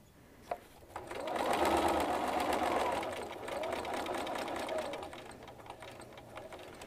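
A sewing machine stitches over previous stitches on firm fabric, a close, steady mechanical whirr of rapid needle strokes lasting a few seconds after a single click, then slowing to quieter taps.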